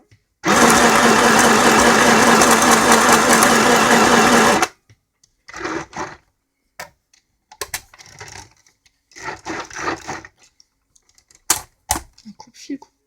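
A Hema sewing machine runs steadily for about four seconds of continuous loud stitching, then sews in reverse in short, stop-start bursts of motor whirring with pauses between them.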